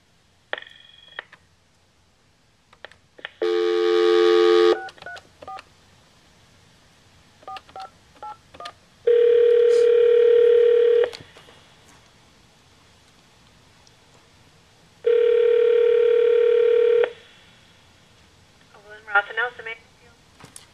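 A telephone sounds keypad tones followed by long ringing tones, with two extended rings separated by quiet gaps. Brief dial tones come at the start and end, and a background hiss runs throughout.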